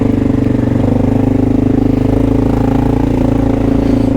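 Honda XR650L single-cylinder motorcycle engine running steadily and loud up close while riding through Manhattan traffic, a constant throbbing drone with no pauses.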